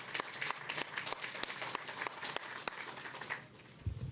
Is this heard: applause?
yes